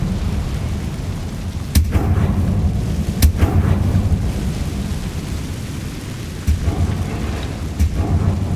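A magical fire spell cast in the Hogwarts Legacy video game, heard as a continuous roaring, crackling rumble with several sharp bursts flaring up at irregular intervals.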